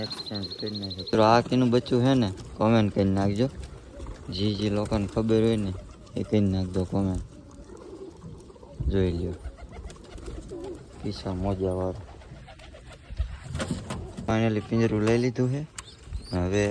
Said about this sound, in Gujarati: નવા કબૂતર લાવ્યો